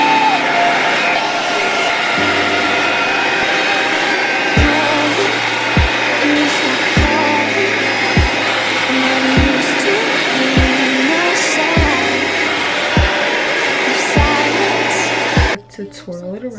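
Hair dryer blowing hair during a bouncy blowout styling session, a steady loud whir running continuously, with rhythmic brush or clip clicks every second or so, cutting out near the end.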